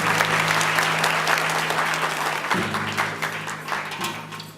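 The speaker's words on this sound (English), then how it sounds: "Please a round of applause for them." An audience at a school instrumental concert applauds warmly, with dense clapping throughout over a low steady hum, easing slightly toward the end.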